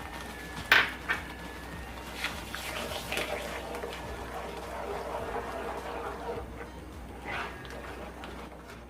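Pineapple jam with added sugar stirred in a pan over a high flame: a sharp metallic clink of a spoon against the pan, then soft scraping and light clatter, close and fairly quiet, with no talking.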